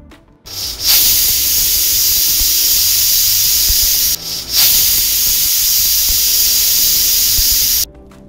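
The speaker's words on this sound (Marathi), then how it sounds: "आता कुकरचं झाकण लावून याच्या 2 शिट्या करून घ्यायच्या आहेत" A pressure cooker cooking egg biryani on full flame lets off two long, loud, hissing steam whistles, close by, with only a brief dip between them and no talking.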